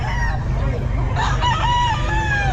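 Bull stag roosters at the Bocaue pet market, a close, loud crowing call with rising and falling harmonic tones and some clucking, over a low background rumble of the market.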